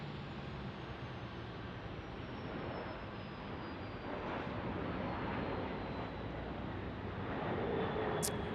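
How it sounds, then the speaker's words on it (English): An American Airlines Boeing 737 Max 8 airliner passes at an airport as a faint, distant, steady jet roar that swells slightly, with no speech. "It's got a Max 8 American Airlines."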